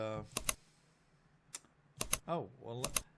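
Quiet clicks of typing on a computer keyboard in short scattered bursts, interleaved with someone talking nearby.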